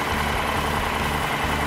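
A tractor engine runs steadily nearby on a film set, giving a dense, continuous low rumble with a slight knocking pulse and no speech.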